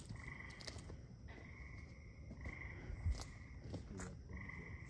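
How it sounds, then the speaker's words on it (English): Frogs and a couple of bullfrogs croak at night along a ridge, repeated short croaks and trills in irregular bursts, faint and distant over quiet background. "I can hear the frogs and a couple of bullfrogs"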